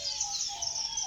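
Birds chirp and trill steadily in an Iraqi bird reserve that holds finches among many species, a continuous high twittering chorus at moderate distance with no talk.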